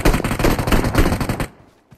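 Rapid automatic gunfire bursts in a shooting video game scrim, loud and close for about a second and a half, then cutting to near silence with a faint tap.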